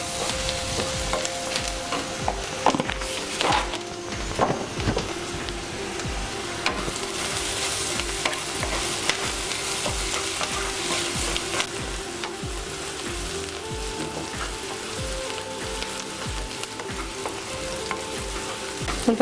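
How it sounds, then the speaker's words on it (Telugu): Onions with salt fry steadily in a pan, a continuous close sizzle and crackle broken by occasional stirring scrapes. "ఉల్లిపాయలు తొందరగా ఫ్రై అయిపోతాయి"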